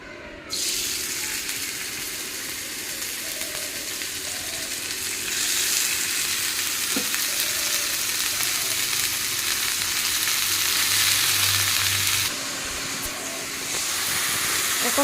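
Finely chopped greens frying in a pan with turmeric and salt, giving a constant loud hiss and sizzle. The hiss swells midway, then drops back near the end, with occasional faint stirring.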